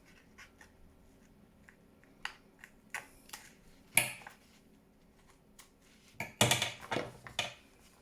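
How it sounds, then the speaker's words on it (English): Scissors cutting into a paper file folder for a junk journal folio, sparse soft snips and paper rustles that build into a louder cluster of crisp cuts and crinkling near the end, close up, with no speech. "I'm just going to cut into this a little bit"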